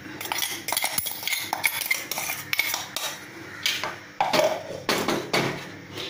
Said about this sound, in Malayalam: ഇനി നമുക്കിത് ഒരു പിന്നെ പരന്ന പാത്രത്തിലേക്ക് മാറ്റാം